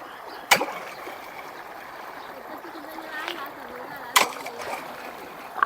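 Irrigation water flowing under strong pressure into farm field beds, filling the plots. A steady rushing wash of water runs throughout, broken by two sharp splashing bursts, moderately loud and close.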